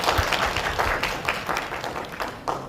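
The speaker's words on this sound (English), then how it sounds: "I would like to invite every one of us to give us a round of applause." Applause from the audience at an international medical congress, a moderately loud mix of clapping hands with a faint murmur of voices underneath, holding steady for a few seconds.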